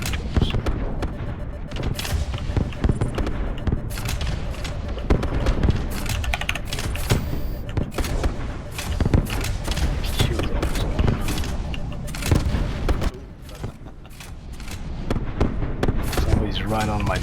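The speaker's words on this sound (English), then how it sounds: "Somebody's right on my tail shooting me." Dense weapon fire and explosive bursts in the Eve Aether Wars space video game crackle continuously and loudly, with a voice talking over the barrage.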